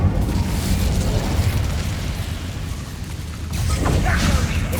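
Fire spell cast in Hogwarts Legacy: a steady loud roaring, rumbling burst with crackling that dips briefly and then flares up again with a sharper crackle near the end.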